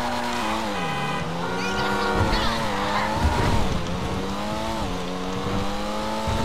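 A Pfister Comet SR sports car in GTA V drives hard, its loud engine holding a steady droning note that rises and falls as it shifts, with tire squeal and faint talk beneath.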